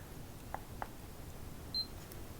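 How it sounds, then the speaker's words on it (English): Activating a Leica laser rangefinder: two faint button clicks in quick succession, then a brief high electronic beep, all quiet and close over a low background hiss. "Now I've got a Leica rangefinder here which is accurate within 100 mil. So I'm going to zap it"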